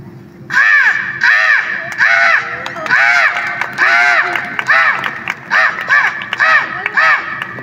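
A man on stage imitates crow caws with his voice, giving a long run of loud, nasal 'kaa' calls in quick bursts with short pauses between them, close to the microphone.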